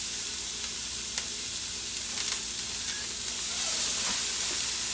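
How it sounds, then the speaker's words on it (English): Food hitting hot oil in a pan and sizzling steadily, a close, constant crackling hiss with occasional pops and stirring, no voices. "So now the oil's hot. And dump this in. It sounds like it's sizzling good."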